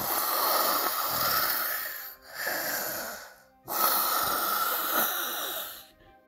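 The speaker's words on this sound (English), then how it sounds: "The snores had arrived and were dancing around Noodle's head." Snoring in a children's bedtime story comes as two long, raspy, wheezing snores, each swelling and then stopping with a brief silence between.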